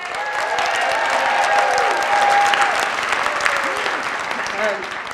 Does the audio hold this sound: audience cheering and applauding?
yes